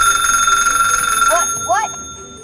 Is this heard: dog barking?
no